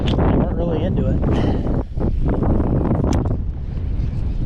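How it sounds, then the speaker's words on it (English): Strong wind buffets the microphone out on a lake while bass fishing from a boat on Dale Hollow, a steady loud roar with someone talking over it throughout. "Wind's ripping in here."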